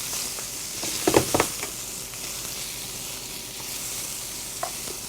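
Shrimp frying in a hot pan as the first step of an Alfredo sauce give a steady close sizzle throughout, with a few sharp crackles and pops near the start and a faint scrape of stirring.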